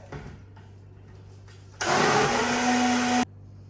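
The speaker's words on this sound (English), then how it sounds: "So we'll give this a quick blend again" An electric blender whirs loudly for about a second and a half as it blends vegan chocolate cake mixture, starting abruptly after a few faint kitchen clatters and cutting off sharply, close and dominant.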